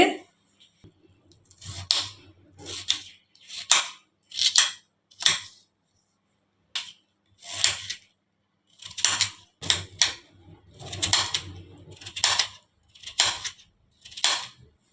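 Knife chopping peeled potato into small pieces for grinding, a series of sharp, close taps on a board in irregular bursts, with brief pauses between runs of cuts and no talking.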